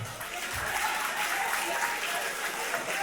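Wedding guests in a reception hall break into applause, a soft, distant wash of clapping that holds steady for a few seconds without speech.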